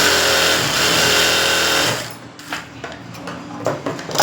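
A sewing machine running a long straight stitch hums loud and steady for about two seconds, then stops, leaving quieter scattered clicks and handling noises.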